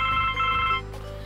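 A telephone rings in the point-and-click adventure game The Blackwell Legacy, a steady electronic ringing tone that holds for most of a second and then cuts off, leaving a low background hum.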